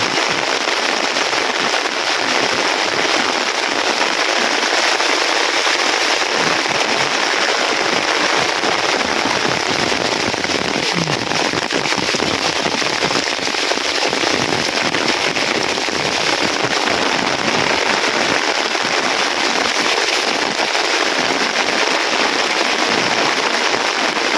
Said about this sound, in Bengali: প্রচন্ড বেগে বৃষ্টি আইতেছে